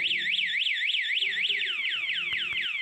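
A loud anti-theft alarm on a Honda Beat FI motorcycle, set off by vibration, wails in rapid rising-and-falling sweeps, continuous and close, changing its pattern partway through with a couple of sharp clicks.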